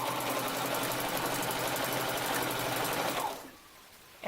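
Close, loud sewing machine runs steadily, stitching elastic onto a shirt in one continuous burst of fast mechanical chatter, then stops abruptly near the end, leaving near silence.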